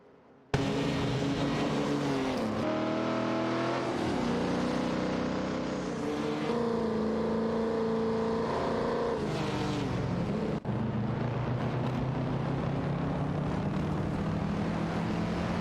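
Racing game engines from a Mercedes-Benz 300 SL and an Aston Martin DB5 Vantage drone loudly and continuously, their tones rising and falling through gear changes, with a short break near the end.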